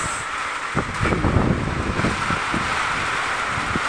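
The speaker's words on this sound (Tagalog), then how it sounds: "Maulan din, mabagyo din, mahangin din." Heavy rain and strong wind during a storm make a steady, loud roar with gusty swells and scattered close spatters.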